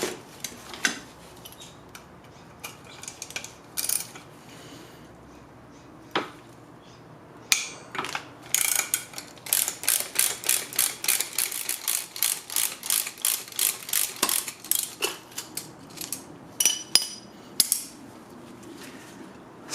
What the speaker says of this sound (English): I'm using a ratcheting wrench because it makes it a lot easier to get it removed.